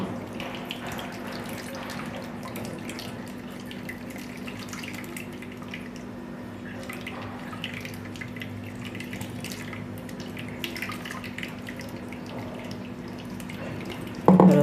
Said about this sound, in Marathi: आता आपण जे ज्वारीचं पीठ भाजून घेतलं होतं त्यामध्येच हे गाळून घ्यायचं आहे आपल्याला